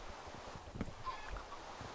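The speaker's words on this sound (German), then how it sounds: "Oh mein Gott, wie viele Hühner sind denn da gerade rausgekommen?" Chickens cluck in Minecraft, a handful of short blocky clucks that pop up at moderate loudness over a low, steady background hum, with no talking.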